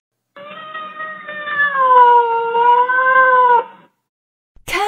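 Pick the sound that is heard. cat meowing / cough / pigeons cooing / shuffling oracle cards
cat meowing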